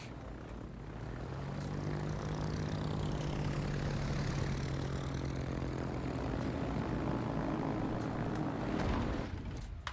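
Propeller aircraft engines drone in World of Warships, swelling from quiet to a loud sustained buzz with a Doppler-like sweep, then cutting off near the end.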